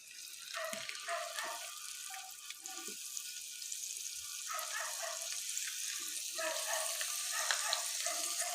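Potato and flour snacks fry in hot oil on a high flame, giving a steady soft sizzle with bubbling crackle throughout, fairly quiet and without talking.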